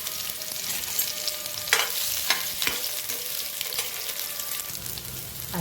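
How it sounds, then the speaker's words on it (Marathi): Onion, ginger and other aromatics frying in hot ghee in a pan for chole masala, a steady close broadband sizzle with a few sharp crackles and spoon stirs, no voices. "आता मी तूप टाकलं, त्याच्यामध्ये मी कांदा टाकते"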